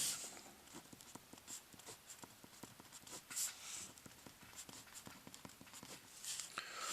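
Pen or pencil scratching out equations by hand on paper, a quiet, busy run of short strokes and taps, close and steady throughout with no talk.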